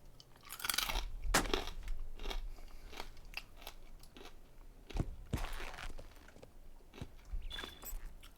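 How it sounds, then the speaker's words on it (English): Crunchy, salty corn nuts are chewed close to the mic, a run of sharp cracking bites and grinding crunches at an irregular pace, with no talk over them. "there's no way to be quiet eating corn nuts"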